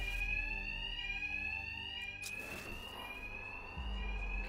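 A fire alarm in the Batman: Arkham Knight video game rings continuously with a steady, piercing electronic tone, loud and unbroken throughout, over a low background hum and a brief dull thud midway.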